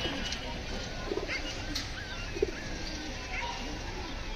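Soft racing pigeon coos come a couple of times beneath a person talking, with a few faint chirps in the background.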